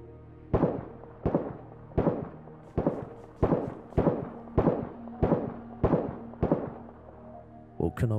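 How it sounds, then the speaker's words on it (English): Distant gunfire in the DayZ survival game on Namalsk: about ten sharp shots with echoing tails, spaced roughly a second apart, followed by a final quick pair, all alone with no talk. "Woken up by distant shots"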